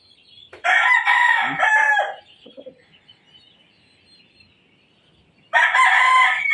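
Gamecock rooster of a fighting bloodline crowing close and loud, one long full crow, a few softer clucks, then a second crow starting near the end over a quiet background.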